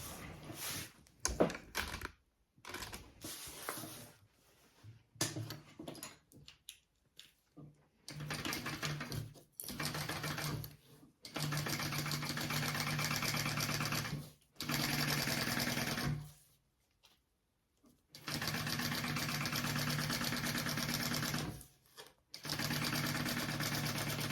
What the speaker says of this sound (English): I'm going to sew them along the top at my seam allowance, and then I'm going to flip it up and top stitch.